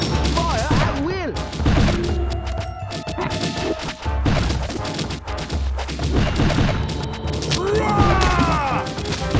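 Musketeer towers fire in the Kingdom Rush tower-defense game on the Rotten Forest stage, dense overlapping musket shots and thuds under game music, battle effects and shouted voices.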